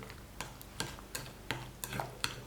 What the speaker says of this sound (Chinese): 放一勺盐，充分的搅拌均匀